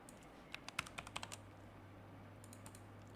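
Light clicks of typing on a computer keyboard: a quick run of about eight keystrokes, then a pause and a few fainter taps, quiet over a low steady hum.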